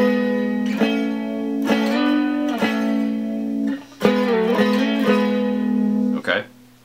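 Electric guitar picking the melody, single sustained notes struck one after another with slides between them, close and clear with no talk, ringing out at the end.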